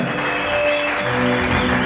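Church congregation applauding, a steady, dense wash of clapping that holds evenly throughout the short stretch.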